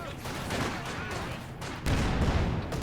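Panzer IV tank cannon fire in a real-time strategy battle, sharp booming blasts amid continuous rumbling combat noise, with a heavier burst near the end.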